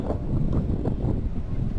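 Steady low wind rumbling and buffeting against the microphone at Fuwayrit beach, Qatar, during kite surfing, loud and continuous with no clear breaks.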